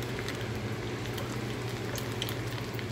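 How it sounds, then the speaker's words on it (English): Molten soft-plastic fishing-bait material bubbles and crackles inside a hot triple-color bait injector, giving a steady, close fizzing and sizzling like water in hot grease. "And you see the way it starts bubbling?"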